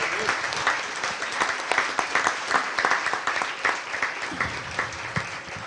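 A church congregation applauds during a sermon, a sustained round of crowd clapping with scattered louder claps, moderately loud and steady, with a voice speaking over it.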